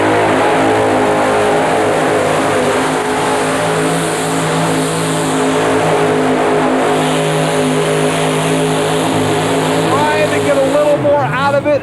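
GMC 4WD truck in a 1991 indoor truck pull competition at Capital Center in Landover, Maryland, engine roaring loud and sustained at full throttle as it drags the sled, with an announcer talking over it.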